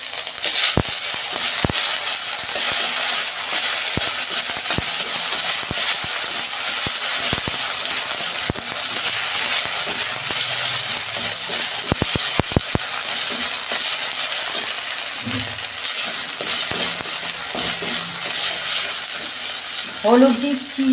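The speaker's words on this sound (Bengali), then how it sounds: "কালো জিরে দিচ্ছি, আদা রসুনের পেস্ট দিচ্ছি" Black cumin seeds and ginger-garlic paste hit hot oil left from frying katla fish, producing a steady, close hiss and sizzle with occasional sharp clicks of a spatula stirring and scraping the pan.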